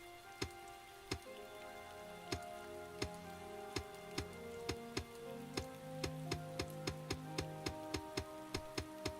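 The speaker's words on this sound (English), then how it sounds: "So notice as it rains, actually kind of wets the soil for you." Rain falls in the video game Starbound as crisp, regular droplet ticks that speed up over time. Soft, sustained musical tones play quietly underneath.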